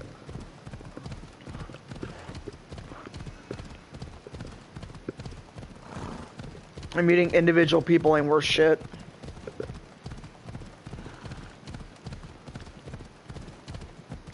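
Steady, rhythmic clip-clop of horse hooves in a video game runs throughout beneath a talking voice, with a loud, shrill horse whinny bursting out about halfway through.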